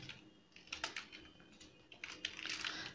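Code being typed on a computer keyboard, a quick, irregular run of soft key clicks in small clusters, close and quiet with no talking.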